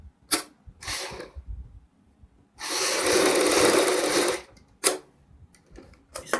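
An electric sewing machine stitching a kurti runs in one steady two-second burst, flanked by a few short clicks and brief handling noises, with no talking.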